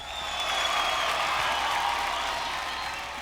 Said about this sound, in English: With a huge round of applause, let's welcome Rama ma'am on stage